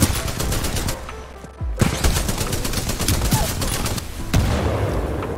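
An automatic gun in Titanfall 2 fires almost nonstop: rapid close shots crackle loudly in long bursts, with brief gaps and a few heavier thumps between them.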